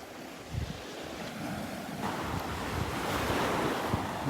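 Gulf surf washes onto the beach at Delnor-Wiggins in churned-up water, a steady roar of breaking waves building slightly over the seconds, mixed with gusty wind buffeting the microphone.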